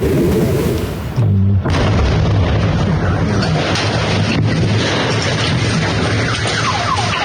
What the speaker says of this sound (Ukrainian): А це вже зафільмований очевидцями вибух на автостоянці у Шевченківському районі Дніпра